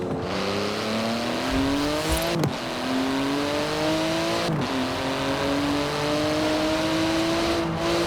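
A high-revving exotic titanium supercar in Forza Horizon 4 accelerates hard, its engine note climbing steadily through repeated gear changes with brief dips between shifts, loud and continuous throughout.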